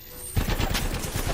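Gunfire in the shooter game Apex Legends, a rapid burst of shots starting abruptly and continuing as a dense, loud rattle.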